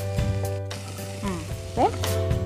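Zucchini pieces sizzling in a hot pan with dried chillies, a steady close frying hiss with a few stirring clatters, while voices talk over it.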